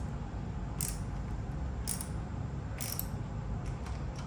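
Rhythmic ratcheting clicks from a wrench cranking down a nut on a wicker egg chair, three bursts of metallic clicking over a steady background hum, close by.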